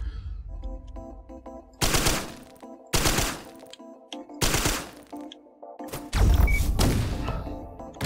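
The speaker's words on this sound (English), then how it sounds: "Using airstrikes to keep the crab afloat for at least 25 seconds." Airstrike explosions in the Risk of Rain Returns video game land in four separate heavy bursts, each a loud broadband blast over a steady background of game music, with the last impact the deepest and longest.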